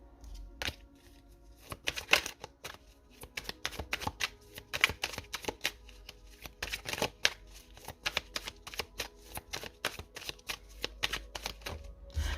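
A deck of Osho Zen Tarot cards is shuffled close up. The quick riffling bursts and soft slaps repeat irregularly and stand alone without talk.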